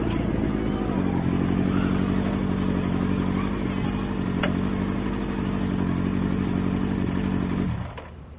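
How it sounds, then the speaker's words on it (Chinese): A newly repaired motorcycle engine runs in a steady, close drone for several seconds, then drops away abruptly just before the end. "摩托车修好了。"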